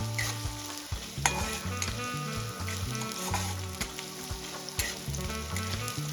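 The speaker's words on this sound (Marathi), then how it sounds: "इथे आपलं ऑइल पण छान गरम झालेलं आहे कांदा छान गोल्डन कलर होईपर्यंत परतून घ्यायचा आहे आपल्याला" Sliced onions fry and sizzle in hot oil in a home kitchen pan while being stirred until golden, giving a steady close crackle with repeated scraping strokes of the spatula.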